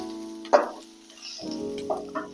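Salted food for idli manchurian is stirred in a frying pan, with a brief scrape and sizzle followed by softer spoon scrapes. The sound is close and quiet, and the pan hisses faintly underneath.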